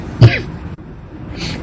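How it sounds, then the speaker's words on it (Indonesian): A single sharp cough, as if from choking, bursts out close and loud, followed by a quiet pause and a faint rustle. "sorry ya guys, aku batuk,"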